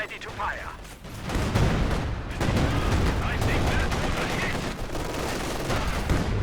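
Artillery barrage in Company of Heroes 2 during a 2v2 match on Novoye, dense overlapping booms and rattling gunfire in a continuous loud battle din.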